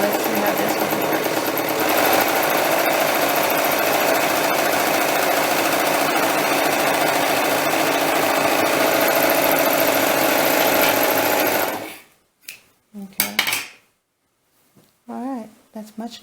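A sewing machine stitches fabric for a doll's godet dress. It runs continuously with a steady mechanical hum and rattle for about twelve seconds, then stops, leaving scattered handling noises and a few short clicks.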